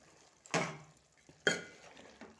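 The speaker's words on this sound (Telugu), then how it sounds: "కొబ్బరి పొడి అండి చికెన్ మసాలా వేసి ఇలా కలిపేసుకోవాలి" Two distinct clanks of a spoon scraping a pot while stirring chicken curry with coconut powder and chicken masala, each sharp hit followed by a brief scrape in an otherwise quiet kitchen.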